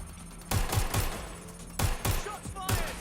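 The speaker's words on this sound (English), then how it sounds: "Shots fired!" Gunshots in the video game Watch Dogs: Legion: rapid bursts of booming shots in two clusters with a lone shot at the end, loud and close over a low background hum.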